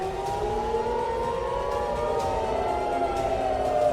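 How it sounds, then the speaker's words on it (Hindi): Air raid sirens sounding across Israel during missile and drone attacks, several wailing tones layered and slowly rising and falling, loud and sustained with no talk. "ईरान की ताबड़तोड़ अटैक की वजह से इजराइल में लगातार सायरन बज रहे हैं।"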